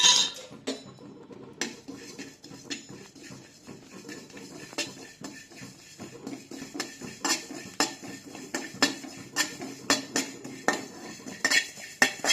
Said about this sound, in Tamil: இப்போ சீரகம் வறுத்துக்கலாம்.